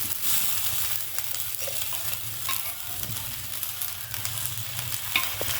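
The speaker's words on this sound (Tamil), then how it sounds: "எண்ணெய் மட்டும் சுற்றி ஊற்றணும்" Oil poured around a potato pancake made with garlic and salt in a pan, a continuous close sizzle and crackle with occasional light stirring scrapes.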